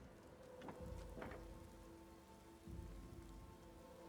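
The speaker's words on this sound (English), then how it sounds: "Okay, that seems like it's raining." Steady rain falls in the fantasy video game Skyrim, a dense, even hiss of drops on surfaces with a few slightly louder swells, no voices.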